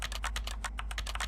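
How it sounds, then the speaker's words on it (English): Computer keyboard typing in a game jam video game, a quick run of soft, evenly spaced key clicks over a low steady hum of computer ambience. "I really like the typing sounds."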